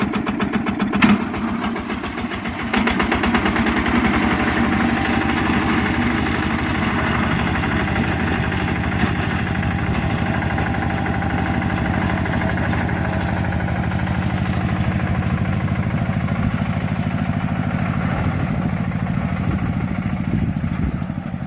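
A Yanmar two-wheel tractor diesel engine chugs steadily at close range with a low, rhythmic thump, starting up after a brief pause and then running evenly throughout.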